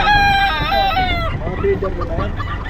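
A fancy chicken crows loudly and close at a busy pet market, one long drawn-out cock-a-doodle-doo followed by shorter clucking sounds as people talk nearby.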